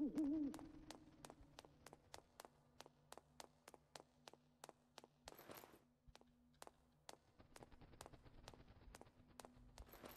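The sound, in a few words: owl-like hoots from a creature in video game Night of the Dead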